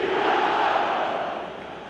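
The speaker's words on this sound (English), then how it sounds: "the crowd level has gone up a notch or 10" A dense stadium crowd roars in eFootball 2025, a loud, sustained wash of cheering voices that swells early and slowly eases off, with no distinct single speaker.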